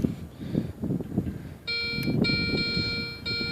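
After some low rustling and handling noise, a Garrett Ace 250 metal detector emits a steady high electronic beeping tone while pinpointing a target, cutting out briefly once or twice.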